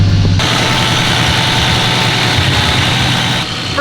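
BMW E36 wagon engine cranks over and catches, then settles into a steady, loud idle with a low rumbling throb close by, no voices over it.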